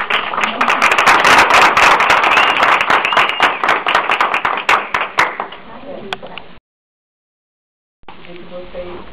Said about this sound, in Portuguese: Gostaria de ter uma salva de palmas nesse trabalho